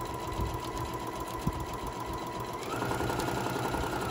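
Sewing machine stitching a small box-style zipper pouch, a continuous close mechanical whir with a steady rapid needle rhythm that picks up slightly near the end, no talk.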